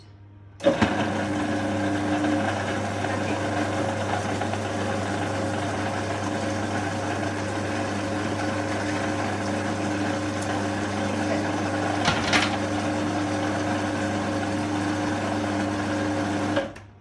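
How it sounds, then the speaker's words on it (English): A kitchen machine whirs steadily as it pulps whole blood oranges, starting abruptly and holding a loud, even motor drone for about sixteen seconds with one brief knock partway through, then cutting off. "So I'm going to give this a whiz."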